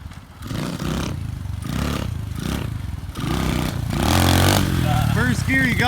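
An SSR 125 pit bike revs hard and roars through a wheelie attempt, the engine note rising and swelling loud near the end, with voices talking over it.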